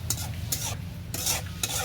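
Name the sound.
stirring dried fish curry in a pan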